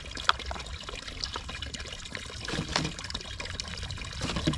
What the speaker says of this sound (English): I have an empty 2-liter soda bottle. I'm going to fill that up.